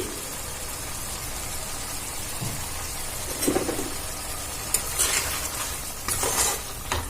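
Papaya and mung dal cooking in a pan with a little ghee added, a soft continuous sizzle broken by a few spoon scrapes and clinks against the pan as the mixture is stirred.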